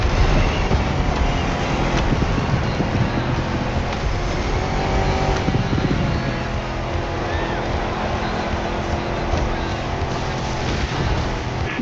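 A 4x4 off-road car racing through jungle in the game The Crew Motorfest, its engine roaring loud and continuous with rough rumbling and rushing noise and no clear breaks.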